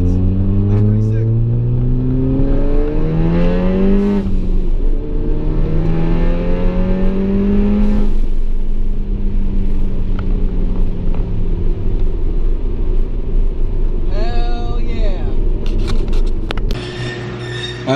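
A VW MK7 Golf R engine revs repeatedly during a burnout after a Haldex switch modification, loud close rising and falling revs with a steady rumble, and people talk over it.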